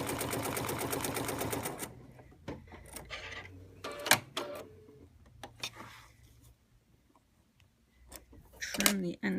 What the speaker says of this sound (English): So now I'm going to stitch this side again. I've got my scant 1/4 inch seam here.